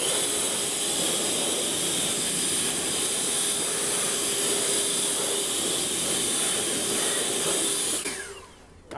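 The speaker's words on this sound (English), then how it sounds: "Let's blow dry this one." Compressed air blasts a freshly pressure-washed wheel with a ceramic coating. The loud, steady rushing hiss is close and continuous, then drops away abruptly near the end.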